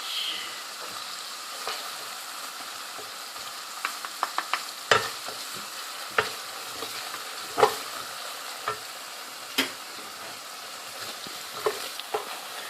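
Chicken seasoned with salt, chili and turmeric sautés in a pan. A low, steady sizzle is broken by repeated sharp scrapes and clacks of the stirring spoon, close up with no talk.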